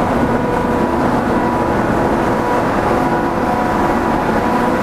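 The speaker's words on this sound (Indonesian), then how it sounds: "Nah, ini ruang root blowernya." A root blower runs inside its machine room at a water treatment and transfer facility, a loud, dense, steady mechanical roar with a low hum that never lets up.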